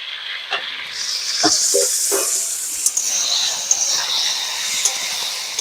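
Cut vegetable stalks go into a pan of frying potato and pointed gourd, setting off a bright, steady sizzle with a few soft clatters and stirring knocks near the start, close and fairly loud.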